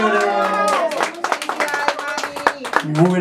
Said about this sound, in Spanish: El aplauso para Gaby, sí, señora